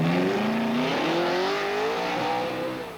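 An American stock car with a 5-liter, 400-500 horsepower engine climbs at the Pikes Peak hill climb, its loud engine droning steadily and rising in pitch through gear changes, fading slightly at the end.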